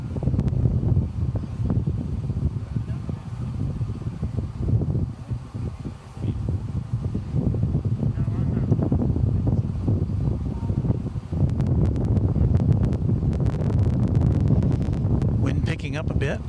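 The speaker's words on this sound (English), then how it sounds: "Wind picking up a bit." Wind gusting at an airport, a rough rumbling buffet against the microphone that rises and falls, with someone speaking over it at times.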